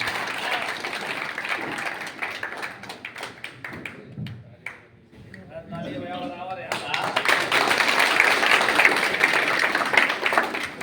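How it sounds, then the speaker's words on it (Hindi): Applause from a crowd at a political party gathering in Agra, with clapping and a voice at the start, a brief dip with muffled talk, then a swell of dense, sustained clapping through the second half. "एक बार जोरदार तालियों से।"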